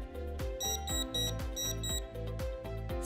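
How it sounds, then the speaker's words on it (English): An Accuflow Thala syringe pump sounds its audible alarm: a repeating electronic beeping tone pattern, steady and close, pulsing in even bursts with no talking over it. "If an occlusion is detected, red LED flashes with an audible alarm."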